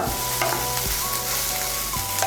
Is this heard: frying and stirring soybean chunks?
yes